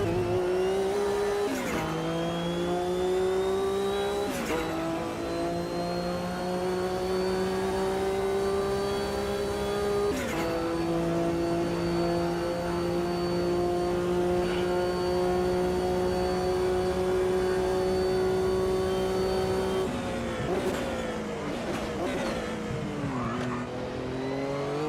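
Race car engines scream continuously in the AMS2 sim racing game, holding high sustained notes that drop sharply at braking points and climb again through the gears, with pack noise around them.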